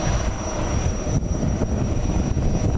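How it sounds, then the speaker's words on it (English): A small jet roars loudly overhead as a steady, broad rumble, with rain adding to the dense wash of noise and no voices. "A little jet making a big noise."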